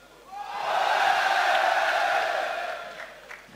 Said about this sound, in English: That's the cheer